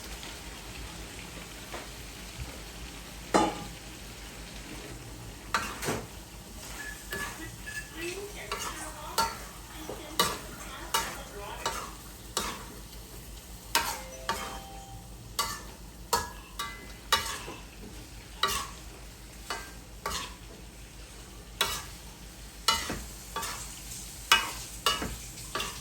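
Pork belly is stir-fried with soy sauce and pineapple in a pan, giving a steady soft sizzle broken by regular scraping strokes of a spatula, close and fairly quiet.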